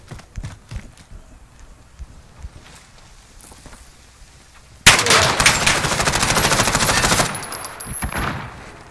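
An MP5 submachine gun firing in Call of Duty, a dense, loud rapid-fire burst of about two and a half seconds that cuts in abruptly after quieter scattered game noise and tails off into softer shots and movement.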